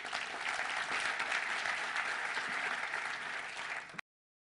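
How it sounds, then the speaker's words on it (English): Applause from a live audience greeting a speaker introduced on stage, a dense, even wash of clapping held steady for about four seconds before cutting off abruptly. "May I have a warm round of applause for Reggie Middleton."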